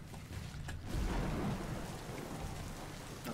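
Rain falling in the SMITE video game, a soft continuous hiss of downpour with a low rumble swelling midway like distant thunder, fairly quiet with no voices.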